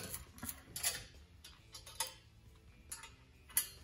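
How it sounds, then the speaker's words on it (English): Several light metallic ticks and taps, spaced irregularly, as header bolts are snugged up on a 409 Impala with Sanderson headers. The sound is close and quiet, over faint background noise, with no talking. "I'm gonna snug up a couple of bolts"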